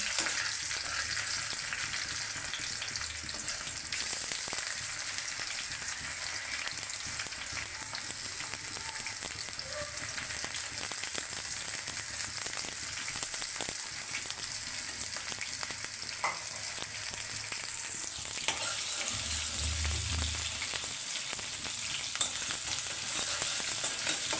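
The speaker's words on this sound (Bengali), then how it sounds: "আমি এখন রসুন কুচি দিয়ে দেবো নাড়া চাড়া দিয়ে পেঁয়াজ মরিচে দিয়ে দেবো" Steady loud sizzling of chopped garlic, onion and chili frying in a hot pan, continuous throughout with occasional stirring scrapes and a brief low thump near the end.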